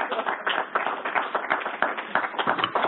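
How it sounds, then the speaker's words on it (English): Audience applause at an evening developer talk, a dense, steady patter of many hands clapping at close range for a few seconds. "let's give a round of applause for that."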